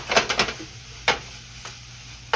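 Rice stirred around in a pot, several close scraping strokes in a quick burst, then a few isolated scrapes spaced apart over a low steady background hum.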